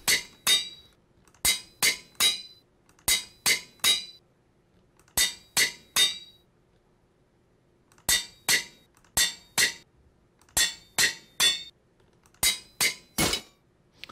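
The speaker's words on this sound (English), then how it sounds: "The anvil broke." A Minecraft anvil in use, ending in the anvil breaking: sharp metallic clinks in tight groups of three or four, repeated at steady intervals with clean silence between, crisp and close, with no voices.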